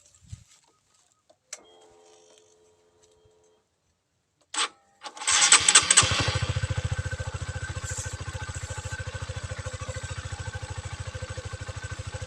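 Quiet clicks and a brief whir, then a Honda CBR150R motorcycle engine with hard-starting trouble cranks and catches, settling into a steady, close, pulsing idle.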